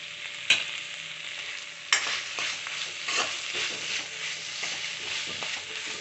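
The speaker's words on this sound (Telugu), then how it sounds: "కారం వేసేసి చక్కగా 1 మినిట్ ఇలా కలిపేసుకుందామండి" Ridge gourd curry stirred in a sizzling pan just after chili powder goes in, a spoon scraping and clinking in steady motions over continuous frying hiss, close and without talk.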